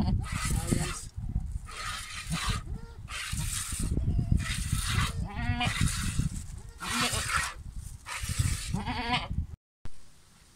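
Goats bleat in a pen, loud and close, with repeated overlapping calls in quick succession and a young kid's higher cries among them.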